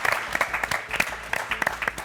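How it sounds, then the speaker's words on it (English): A studio audience at a baking competition finale claps for runners-up Alison and Jenny, a close, steady burst of applause with uneven individual claps. "Let's give them one last round of applause."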